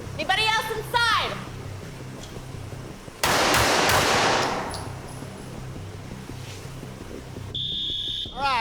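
Gunfire in a police firearms training scenario: a sudden loud crack followed by a harsh, lingering noisy burst, with voices speaking and shouting before and around it and a high electronic tone near the end.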